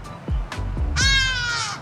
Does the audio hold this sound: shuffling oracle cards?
no